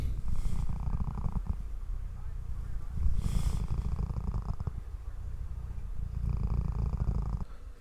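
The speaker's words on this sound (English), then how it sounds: "I'll see if I can get like a little recording of her purring" A cat purrs softly and steadily up close, the low rumbling rising and falling with each breath in a quiet room.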